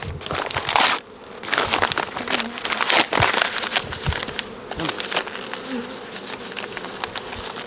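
Honey bees buzz loudly and densely right at an opened first-year hive, with occasional crinkling and handling noises up close.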